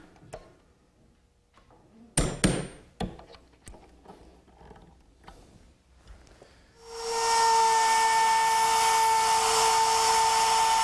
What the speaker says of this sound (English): I like to use this spring-loaded punch to give me a centering hole to start the screws